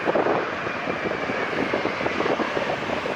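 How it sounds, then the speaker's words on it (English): An airliner landing at LAX during reverse operations, approaching while facing east, gives a steady, loud, broadband engine roar that holds close and continuous throughout with no voices. "So here comes the plane landing, facing east, not the ocean this time."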